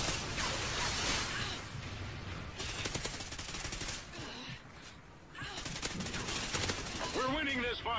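Call of Duty Ghosts multiplayer gunfire in rapid automatic bursts, loud and close, with a shout or voice briefly audible near the end.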